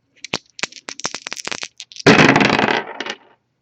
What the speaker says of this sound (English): We're actually going to start the reading off by rolling those astrology dice we have in front of us